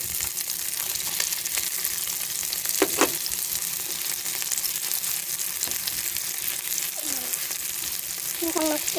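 Onions frying in a pan while cooking pancit bihon with meatballs, a steady hissing sizzle throughout with faint stirring and clinks of a utensil, no talk.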